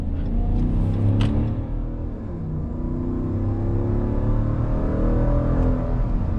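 A Ram 3500 Big Horn pickup with a 6.4-liter Hemi V8 accelerates hard with wheel spin, its engine roaring and climbing steadily from inside the cab while brief tire chirps sound early on.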